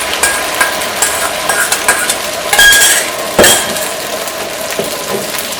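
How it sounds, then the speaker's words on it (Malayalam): Egg mixture hits hot oil in a pan for an omelette, a bright crackling sizzle with scattered clinks of utensil against the pan, fairly loud and close. "ഇതിലേക്ക് മുട്ടയുടെ മിക്സ് ഒഴിക്കുക."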